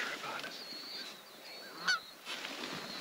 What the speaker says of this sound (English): We got geese right over the top.